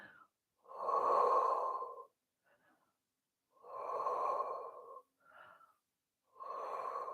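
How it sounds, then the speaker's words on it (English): Three slow, deep breaths taken during a full-body stretching routine, each a close, loud, breathy rush of air lasting over a second, separated by quiet pauses and faint softer intakes. "Nice deep breaths."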